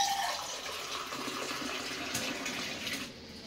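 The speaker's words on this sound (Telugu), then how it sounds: "ఇక 2 గ్లాసుల నీళ్ళు వేద్దాం 2 గ్లాసులు" Water pours steadily into a pot of jaggery syrup, making a continuous splashing rush that stays fairly loud and even, then eases slightly near the end, with no voices.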